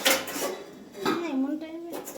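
Plates clatter together in a kitchen as they are handed over, with a couple of brief ceramic knocks and a voice speaking over them.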